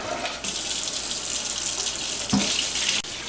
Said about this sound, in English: I like to rinse it with room temperature water